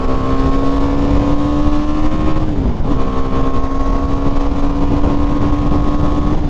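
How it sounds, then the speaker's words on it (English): A 2018 BMW G 310 R motorcycle's engine runs at full throttle, a loud, steady droning roar close by, its pitch dipping briefly midway as the rider shifts before climbing and holding again. "I'm giving this a full rock back on the throttle."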